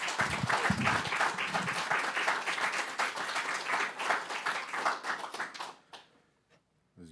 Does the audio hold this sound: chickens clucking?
no